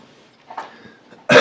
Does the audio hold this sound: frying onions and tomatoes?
no